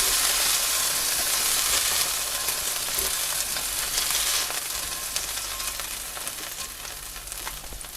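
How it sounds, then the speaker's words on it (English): Smoked bacon renders in a pan for a Greek beef stifado, a dense, continuous crackling sizzle that stays loud and close throughout with no talking, easing slightly toward the end. "So we've added the smoked bacon and let it render for a minute or two."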